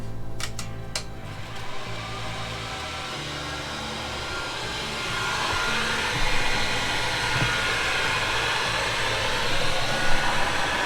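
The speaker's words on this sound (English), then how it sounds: "let's get our heat gun out." A heat gun runs steadily throughout, a continuous blowing whoosh held at an even level, used on heat shrink near styrofoam insulation during a vintage refrigerator repair; a few brief clicks sound at the start.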